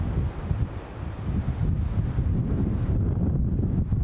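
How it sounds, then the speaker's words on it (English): Wind buffeting the microphone at Newcastle International Airport on a gusty day, a steady low roar with rough gusts and no speech. "Andrew Lawson, you're in Hartlepool, windy there, trees not moving anywhere, not as bad as it is here"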